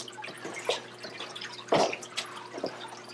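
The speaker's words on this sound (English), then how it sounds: "the water's stored in the bottom and it Water circulates is through down the here. top and just trickles down through the roots" Water from the reservoir in a Lettuce Grow hydroponic tower trickles down through the plant roots. It makes soft, scattered drips and splashes over a faint steady background, with one louder splash near the middle.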